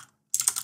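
Code being typed on a computer keyboard: a quick burst of close, crisp key clicks that starts after a brief silence and continues rapidly to the end.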